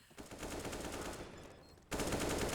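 Counter-Strike match gunfire, a sustained spray of rapid automatic shots that breaks off briefly and then resumes, loud and dense with no talking over it.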